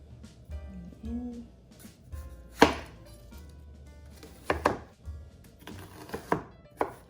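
A knife chops a home-grown white or red onion on a board, with sharp, irregular strikes, a few louder thwacks and short pauses between bursts of cutting.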